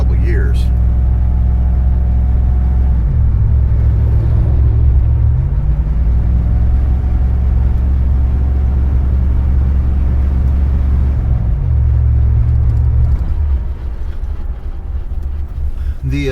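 An old car engine that has sat unused for years runs rough with no muffler, a loud, deep, uneven rumble close by that shifts pitch as it revs and then drops toward the end.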